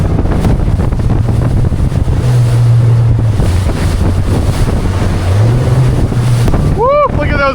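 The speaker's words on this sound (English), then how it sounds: "we have our first set of breaking waves that I'm gonna have to work my way through" A small 23-foot Albury Brothers boat runs through rough seas among breaking waves, with steady loud wind and water rush, engine drone and surf washing continuously, then a brief whistling squeal near the end.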